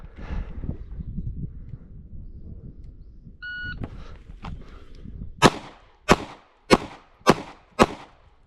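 Pistol shots from an S&W Bodyguard 2.0 fitted with XS R3D sights at an outdoor range, five sharp, loud reports at roughly even half-second spacing after a quieter lead-in with a short beep.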